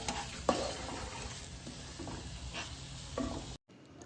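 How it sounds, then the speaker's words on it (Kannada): Coconut burfi mixture with sugar and fresh cream is stirred in a pan over a low flame, giving a soft continuous sizzle broken by a few spoon scrapes and knocks against the pan, with no talk. "ಚೆನ್ನಾಗಿ ಕೈ ಆಡಿಸ್ತಾ ಇರಿ, ತಳ್ಳಾಡಿಯಾಗಿ ಬಿಡಬೇಡಿ, ಇಲ್ಲಾಂದರೆ ಅದು ಸೀದೋಗುತ್ತೆ"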